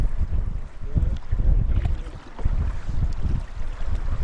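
Strong wind buffeting the microphone on a back-country lake during a canoe trip, with gusty low rumbling surges and choppy water sloshing against the hull, loud and uneven with no talking.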